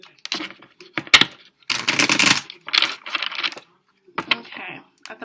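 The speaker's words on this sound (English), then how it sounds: "we're going to shuffle these cards up a few times" Tarot cards are shuffled in several quick, crisp riffling bursts separated by short pauses, close and clear.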